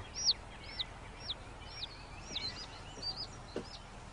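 A young chick peeps in a basement converted into a henhouse, sharp high chirps repeating every half second or so, fairly faint against a quiet background.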